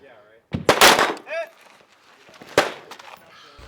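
Gunshots from a gun with a compensator at an outdoor shooting match, two loud sharp blasts about two seconds apart, each with a brief ringing tail, over light ambient noise.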